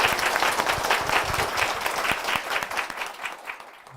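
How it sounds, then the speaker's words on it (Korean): A church congregation applauds warmly, a dense, close round of clapping that holds steady for several seconds before tapering off at the end. "우리 박수를 한번 모시겠습니다."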